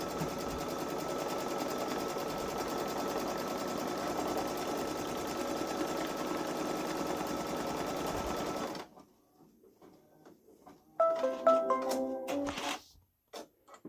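A Babylock Solaris Vision embroidery machine stitches around fabric in a fast, steady mechanical whir for about nine seconds, then stops; quieter handling noises and a short burst of rattling follow.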